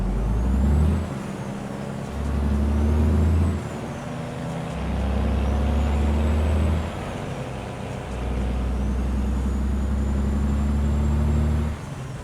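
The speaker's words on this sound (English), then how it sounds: "Let's just enjoy the sounds of American Truck Sim." Truck rolling through a town in American Truck Simulator, a deep engine drone that swells and eases with each gear change, repeated rising whines over it, steady and close with no talk.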